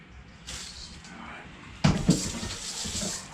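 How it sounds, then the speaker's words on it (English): Hands washed under a running tap, a splashing stream of water that starts softly and swells with a couple of louder splashes, close by. "Wash my hands."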